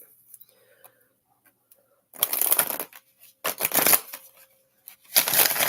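Tarot cards being shuffled in three loud bursts of riffling and slapping, separated by short near-silent pauses, close and clear with no talking.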